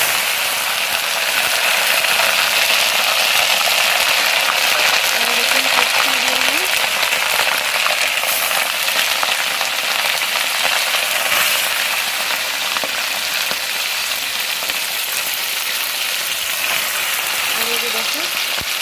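Whole spices frying in extra oil in a wok, a steady loud sizzle and crackle running throughout, with faint background voices.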